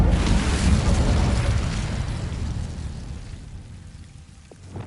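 An Incendio fire spell in Hogwarts Legacy bursts out as a roaring, crackling whoosh of flame that starts loud and slowly fades over several seconds, with no voices over it.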